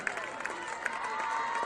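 A crowd at a high school varsity football game cheers for the South Summit cheerleaders, a steady roar with scattered claps and shouts that builds slightly, while an announcer speaks over a PA.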